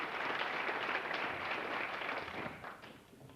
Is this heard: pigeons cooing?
no